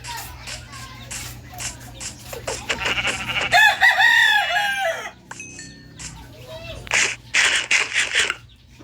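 Chickens cluck and a rooster crows amid a busy outdoor scene, the crow rising clearly in the middle while children's voices and chatter come and go around the birds.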